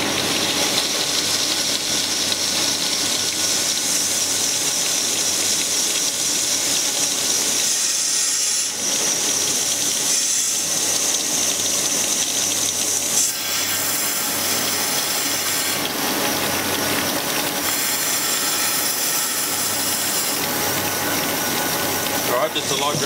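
A crankshaft grinding machine for a 305 Chevy crankshaft runs with coolant flowing, a loud continuous hiss and grinding roar that holds steady the whole time.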